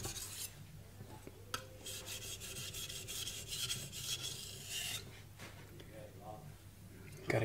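A knife is drawn in repeated full-length strokes across a Morihei whetstone, a soft gritty rasping rhythm heard close up and quietly, with someone talking over it.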